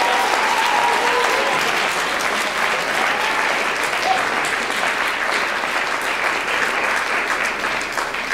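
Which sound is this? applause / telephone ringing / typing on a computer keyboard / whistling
applause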